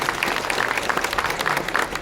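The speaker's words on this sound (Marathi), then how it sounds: "आपण सर्वांनी एकदा जोरात टाळ्या वाजवत" A crowd of villagers claps loudly and continuously at a ward election campaign launch in Pimple Nilakh, a dense even roar of applause lasting throughout.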